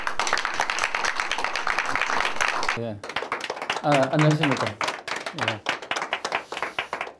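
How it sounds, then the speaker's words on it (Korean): An audience claps to welcome a lecturer at a forum, with a brisk round of hand clapping up front, then a pause and the speaker briefly greeting the room as scattered claps continue. "큰 박수로 환영해 주시기 바랍니다"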